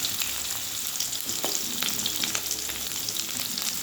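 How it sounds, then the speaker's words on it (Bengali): Chopped pointed gourd (potol) fries in oil in a pan, giving a steady close sizzle with crackling pops and faint stirring scrapes, no voices. "পটলটা একটু ভেজে নেবো"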